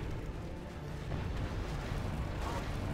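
Inferno cannon artillery barrages in the real-time strategy game C&C Generals Zero Hour, a dense, continuous rumble of overlapping explosions and bursts in a battle scene, loud and steady with no talk.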